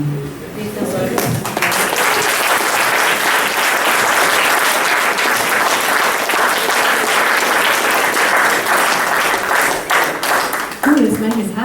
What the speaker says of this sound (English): can we get one more round of applause for and another round of applause for the whole panel